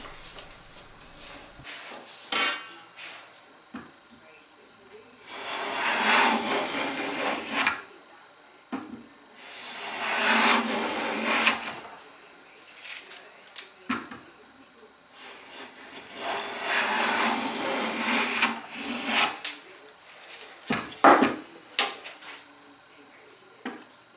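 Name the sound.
hand plane taking shavings off wooden table component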